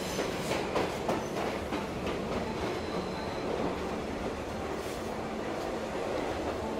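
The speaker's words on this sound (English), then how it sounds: "The train is now departing." A Brio toy train departs and runs along its track, giving a steady rolling rattle with rhythmic clicks throughout, close and fairly loud with no talk.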